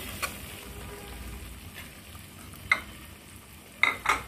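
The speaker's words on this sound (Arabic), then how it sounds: "بعد ما نشم ريحة الدقيق بقى نسيبهم كده يتحمصوا مع بعضيهم كده" Flour and fenugreek roast together in a pan for a sweet fenugreek dish with honey and peanuts, with a faint steady sizzle and a few sharp scrapes of the stirring spoon against the pan.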